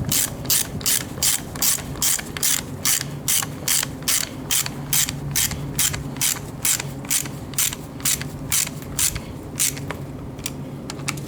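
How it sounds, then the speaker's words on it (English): Ratchet wrench clicks in a quick steady rhythm while bolts are torqued down on a Honda Civic engine, dozens of crisp close pawl ticks with faint mechanical hum underneath. "We're just going to screw all of these in, and then we're going to torque them down."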